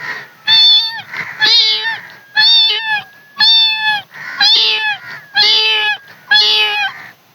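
A man imitates a kitten with his voice, giving about seven loud, close, high-pitched meows in a steady rhythm, each roughly half a second long with short pauses between them.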